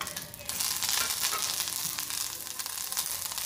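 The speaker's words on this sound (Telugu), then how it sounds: "ఎండుమిరపకాయలు ఇలా ఫ్రై అయిన తర్వాత కడిగి ఆరబెట్టుకున్న 2 గుప్పుల కరివేపాకును వేసుకుని ఫ్రై చేసుకోండి." Washed and dried curry leaves go into hot oil with already-fried dried red chillies and sizzle loudly and steadily at close range, with a brief quieter moment at the start.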